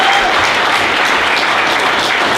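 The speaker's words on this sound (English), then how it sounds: "give a round of applause" An audience claps in continuous, dense applause at close range, loud and steady throughout.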